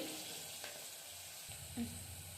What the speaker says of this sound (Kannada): ಈಗ ಈರುಳ್ಳಿ ಸ್ವಲ್ಪ ಫ್ರೈ ಆಗಿದೆ